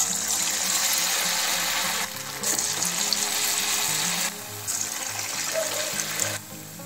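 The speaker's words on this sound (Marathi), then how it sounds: "आता हे आपण काढून घेऊ आणि बाकीचे सुद्धा तळून घेऊ।" Raw potato snacks sizzle as they deep fry in hot oil, a dense crackling hiss that cuts out and returns in bursts as pieces are lifted and dropped back in.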